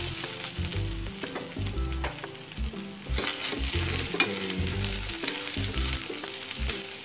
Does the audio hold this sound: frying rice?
yes